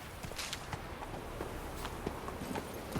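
Hooves clip-clop in quick, uneven steps as a horse moves in the video game Witcher 3: Wild Hunt, close and fairly loud over a constant ambient game wash.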